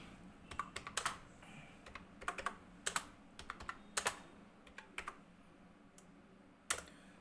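Keys clatter on a computer keyboard in quick, uneven bursts of clicks, close and fairly quiet, with no voices.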